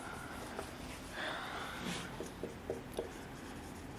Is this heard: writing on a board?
yes